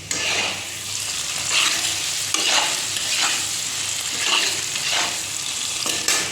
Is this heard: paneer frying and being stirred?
yes